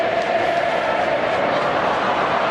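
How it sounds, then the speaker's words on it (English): Football crowd at an AFL match between Geelong and Adelaide, a dense, continuous roar of chanting and cheering filling the stadium, loud and steady throughout. "Moons, the crowd, they're chanting for Jimmy."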